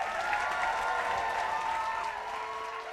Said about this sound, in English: Start clapping, start clapping, start clapping.